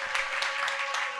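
Audience clapping at a festival discussion in Latvia as a panelist is introduced; brief, steady applause with some sharper individual claps standing out, a faint steady tone running underneath.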